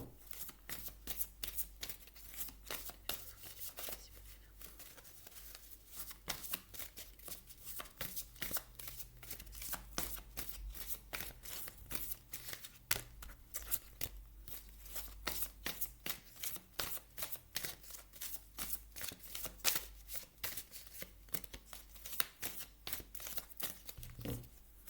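Oracle cards are shuffled continuously and up close, their rapid riffling and flicking forming a dense, steady crackle with a brief voice in the background.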